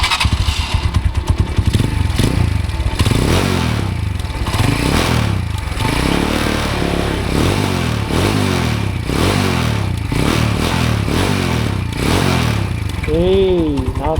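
A Mitsukoshi Euro Vperman 150 motorcycle engine revs up and down repeatedly in a close, loud series of throttle blips, with a rattling, vibrating casing at higher RPM and a brief voice near the end.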